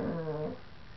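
A dog on an afternoon stroll gives a short whimpering whine, rising into a low growling tone that fades after half a second, close and fairly quiet.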